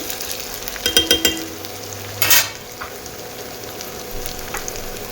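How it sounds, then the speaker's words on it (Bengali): Potatoes and onions fry in a pan with a steady low sizzle, broken by a quick run of utensil scrapes and one louder stirring clatter, heard close with no voices. "আলুটা একটু ভেজে নিই পেঁয়াজের সাথে।"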